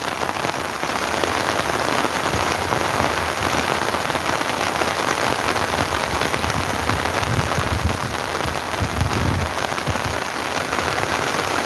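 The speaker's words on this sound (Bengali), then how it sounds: "সরাসরি ভারী বৃষ্টি চলতেছে সিলেটে," Heavy rain pours steadily in a Sylhet village in the morning, a dense continuous hiss of drops on surfaces close by, with no voices.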